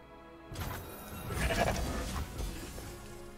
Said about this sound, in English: Got a big goat.